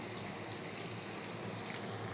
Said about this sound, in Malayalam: ഇനി ഇതിലോട്ട് കുറച്ചും കൂടെ ചൂടുവെള്ളം ഒഴിക്കാം.